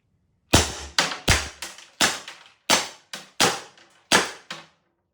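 A P2P Secure 68P 68-caliber pepper launcher fires about nine sharp, loud shots in quick, slightly irregular succession. Each crack is close and snappy with a short decay, and there is no talk between the shots.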